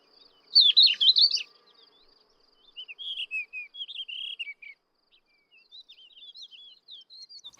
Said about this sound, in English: The birdsong of subalpine warblers and thekla larks can be heard all around.